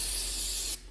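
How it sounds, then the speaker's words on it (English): Brake cleaner sprays from an aerosol can in a steady, close, loud hiss, then cuts off sharply near the end, during a seal and gasket install on a Mopar four-speed drag racing car. "I'm just gonna spray a little bit of brake clean on"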